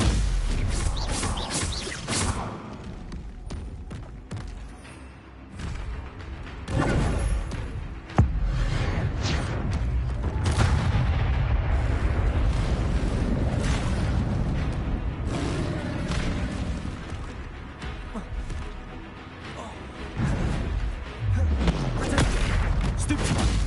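Repeated Confringo blasting-spell explosions in Hogwarts Legacy, a steady barrage of booms and thuds with whooshing bursts, loud and continuous, with voices mixed in throughout.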